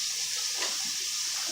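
Rinse water pours steadily out of a Scrubba wash bag in a continuous splashing, hissing stream.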